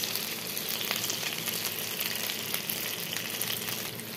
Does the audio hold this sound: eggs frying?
yes